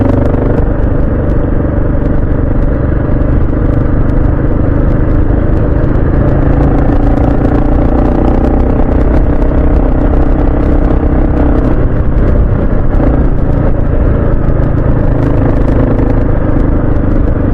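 A Kawasaki KLR 650 motorcycle drones loudly and steadily while being ridden, its engine rumble and wind noise filling the whole stretch with no pauses, close up from the rider's position.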